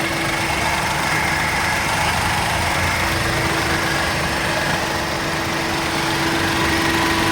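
A car engine idles close by, a loud, steady hum and drone that runs unbroken throughout.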